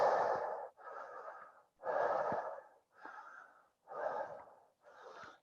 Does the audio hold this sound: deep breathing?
yes